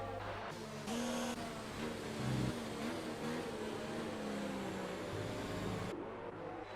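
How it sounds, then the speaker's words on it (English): Race cars drifting around the Silverstone Grand Prix circuit in a racing video game, with steady engine drone and shifting revs that rise and fall, fairly quiet and without voices. "As you have all the cars drifting around there."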